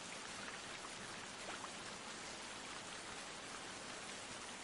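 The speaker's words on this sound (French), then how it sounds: "Écoutez les murmures, les chuchotements, les bourdonnements de l'eau qui cascade, glisse, galope entre les rives" Water cascading and gliding between riverbanks makes a continuous, even rushing hiss, faint and unbroken, with no other sounds over it.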